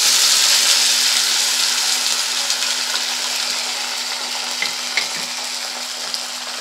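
Maggi noodles and egg frying in hot oil in a kadai for a Maggi omelette, a loud steady bright sizzle that eases slightly over time, with a few faint clicks, no talking.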